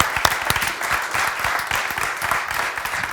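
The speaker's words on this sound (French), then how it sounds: "On peut vous applaudir pour vos témoignages passionnants." Steady audience applause fills a French live broadcast studio set, a dense, even wash of many hands clapping close and loud throughout, with no voices over it.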